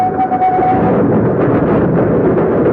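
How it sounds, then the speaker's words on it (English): A passenger train carrying a traveller from Dover up to London, as a radio-drama effect: a steady, loud rumbling roll of carriages on track with a faint whistle-like tone early on. "He is now riding a train from Dover up to London."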